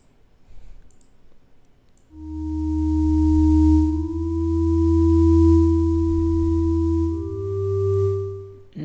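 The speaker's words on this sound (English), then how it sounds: "Let's change this oscillator to, you could do a sine wave, but let's try something different." A synthesizer sub-bass oscillator set to a sweep waveform drones loudly and steadily for several seconds after a short quiet start, then shifts up in pitch near the end, with a faint clicky edge throughout.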